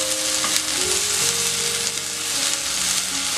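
Chopped potatoes fry in a pan with a steady, dense sizzle throughout, close and loud with no talking.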